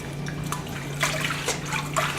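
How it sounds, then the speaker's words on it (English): Parsley dunked several times into a bowl of water gives soft repeated splashes and trickles, close and fairly clear, with a low steady hum beneath. "So I just fill this thing with water, dunk it in like this several times."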